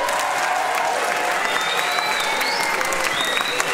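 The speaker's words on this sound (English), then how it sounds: "please give a round of applause to the class of 2022" An audience at a spring school concert applauds the class of 2022 with a full, steady round of clapping, and a few whistles and light cheers cut through the crowd noise.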